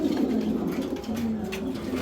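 A pair of top-line silver racer pigeons coo softly and steadily nearby, low throaty murmurs repeating in a continuous run.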